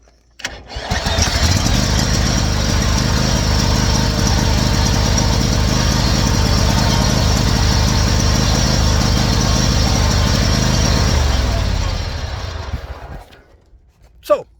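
Toro zero turn lawn mower engine cranked by a high-speed half-inch drill in place of a failed starter, catching and roaring loudly and steadily up close for about eleven seconds before winding down and stopping.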